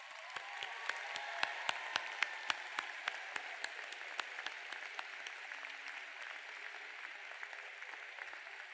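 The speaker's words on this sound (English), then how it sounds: "Let's show them a round of applause just one more time, folks." An audience at a spring university convocation ceremony applauds, starting with sharp, evenly spaced claps that gradually thin out and fade toward the end.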